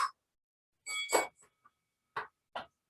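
A workout timer bell rings during a lower-body exercise session, giving a few short, bright dings spread over about three seconds, separated by silence.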